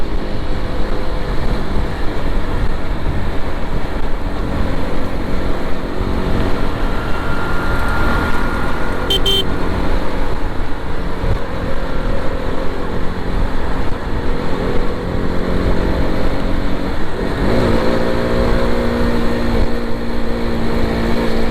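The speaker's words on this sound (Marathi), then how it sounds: "गाडी एवढी गरम झाली ना, गाडीचा एवढा लाऊड आवाज येतो आहे." A motorcycle engine runs loud and hot during a long highway ride from Mumbai toward Nashik, a steady droning roar with wind rush that stays constant throughout and no talk over it.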